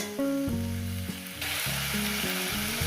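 Snake gourd frying in a pan with egg, a steady close hiss and sizzle with tonal humming from a nearby source layered over it, no voices.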